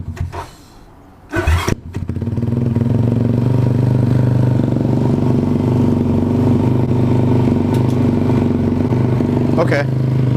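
A motorcycle engine clatters to life after a brief burst, then settles into a steady, close, loud running drone with a deep rumble that holds for the rest of the stretch.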